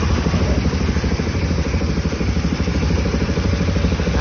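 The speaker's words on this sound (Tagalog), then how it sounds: "Ganon kalakas tong aerator niya dahil bagong-bago ito." A brand-new fish pond aerator runs loudly close by, a dense, rapid mechanical chugging and rattling that is steady and unbroken from start to finish.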